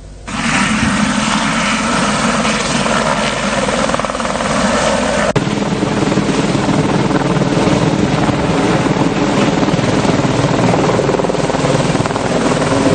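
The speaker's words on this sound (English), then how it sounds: "This is the manner in which the helicopter was hovering 60 to 90 meters above ground in order to conduct the electromagnetic exploration." A helicopter hovers 60 to 90 meters above ground for electromagnetic oil exploration, its loud, steady rotor and engine roar filling the air with wind buffeting the microphone, unbroken throughout.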